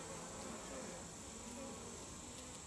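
Honeybees buzz steadily at an open hive during an inspection, a dense continuous hum that stays close and even, with no one talking.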